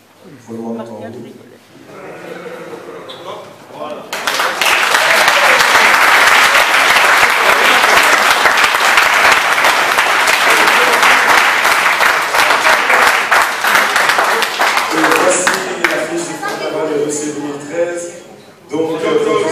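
A speaking voice gives way to a long burst of loud, dense audience applause at the Ressaix carnival poster unveiling, which tapers off as talking resumes near the end.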